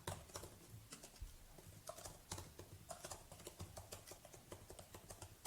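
Steady typing on a computer keyboard while coding, quick irregular key clicks close to the microphone with occasional heavier keystrokes, no voices.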